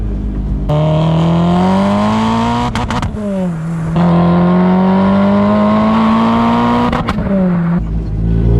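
Supercharged Renault Clio RS200 with a full 2.5-inch Scorpion exhaust, loud from inside the car as the engine climbs through the revs in pulls broken by two quick gear changes, with a rising supercharger whine.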